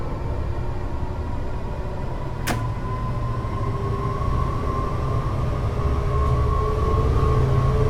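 A MARC Penn Line passenger train runs in Train Sim 2021 with a steady, loud rumble and a sustained whine, a single sharp click near the middle, and no voices.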